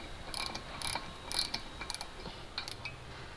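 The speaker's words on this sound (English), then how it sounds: "I'm going to thread these bolts in really quick. And just slowly tighten each one down." Bolts are threaded into the holes of a DBA 4000 Series brake rotor, giving faint quick ratcheting clicks in short bursts close by.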